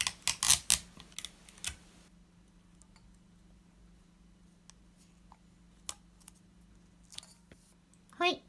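Strips of tape are pulled and pressed onto paper while a character cake design is prepared, with a burst of crackly tearing and sticking at the start, then sparse soft taps and clicks over near silence.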